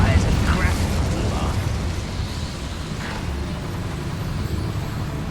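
In the Hogwarts Legacy video game, an Incendio fire spell erupts with a loud, rumbling roar and crackling burst that keeps surging throughout, while someone speaks over it.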